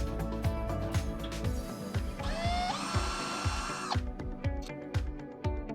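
A power drill fitted with a 1/4 inch hex driver backs screws out of an LED board assembly, whirring in short close bursts that rise into a higher sustained whine before easing off, with ratcheting clicks in between.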